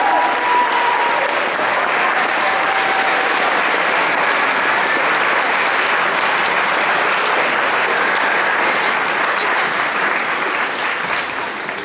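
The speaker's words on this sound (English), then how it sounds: "Let's give them another big round of applause." A large audience at a school Veterans Day tribute claps steadily and loudly for about twelve seconds, a dense, even roar of hands with a faint crowd undertone and no talking.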